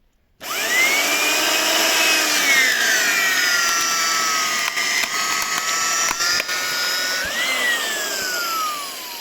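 A drill-mounted cone log splitter bores into a thin piece of acacia wood. The loud motor whine runs steadily for several seconds, its pitch dipping and rising as the screw cone bites under load, with a few sharp cracks and no talking.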